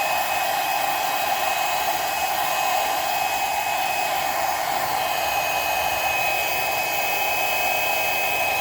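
A heat gun or hair dryer blows hot air onto a Jordan 16 sneaker during a customizing job, producing a loud, steady, unbroken whooshing roar close by with no talking.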